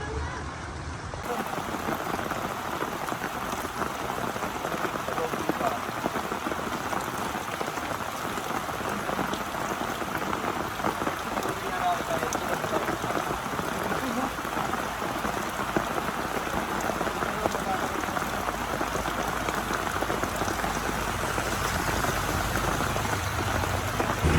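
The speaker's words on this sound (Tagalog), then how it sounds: "Umulan pa nga." Steady, dense rain falls at Taytay/Majayjay Falls, a continuous close hiss of drops on surfaces that holds at an even loudness throughout.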